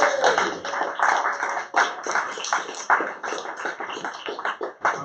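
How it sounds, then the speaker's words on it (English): A burst of clapping from a small crowd, steady and fairly close, with no voices over it. "Round of applause."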